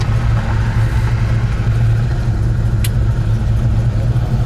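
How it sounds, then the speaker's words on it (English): A 1970 Plymouth Road Runner V8 idles with a steady, deep, loud rumble close up, broken only by a brief faint click partway through. "It's got that nice little rumble, a good idle."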